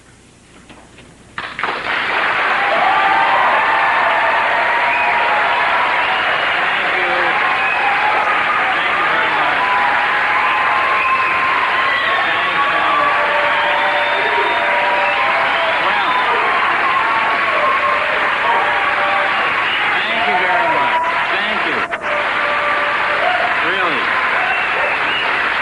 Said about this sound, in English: I have no idea why they're applauding that much